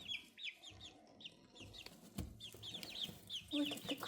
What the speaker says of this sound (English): Look at the crazy chickens.